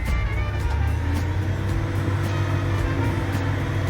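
A Komatsu WA380-6 wheel loader's diesel engine rumbles at a steady, loud idle-to-working pitch as its arm is raised, heard close up with a constant low drone and faint repeated ticking.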